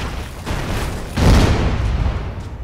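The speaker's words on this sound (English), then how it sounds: "Oh, throw a smoke grenade." A smoke grenade bursts in the Broforce video game, a muffled boom near the middle that swells over a dense bed of ongoing explosions and game noise.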